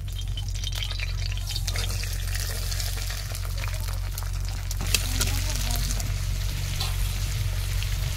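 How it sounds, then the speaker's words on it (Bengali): Vegetables frying in oil in a wok, a continuous dense sizzle that holds steady and close throughout, with occasional small stirring scrapes and a low hum beneath. "আর সবজি কড়াইতে পরিমাণ মতো তেল দিয়ে দিয়েছি।"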